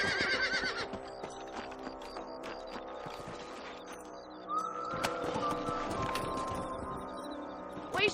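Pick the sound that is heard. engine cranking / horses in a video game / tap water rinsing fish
horses in a video game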